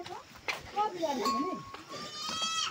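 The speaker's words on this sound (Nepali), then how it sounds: "बाख्राहरू बसिरहेको छ" Goats bleating in their pen at a rural home, a few short wavering bleats close by, mixed in with a person talking.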